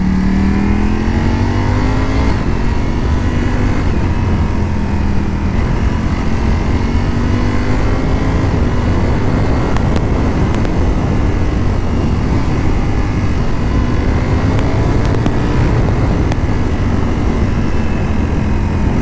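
Ducati Panigale V4 motorcycle engine pulling hard while riding, loud and continuous with steady exhaust roar, pitch climbing and dropping through quick clutchless upshifts, wind noise throughout.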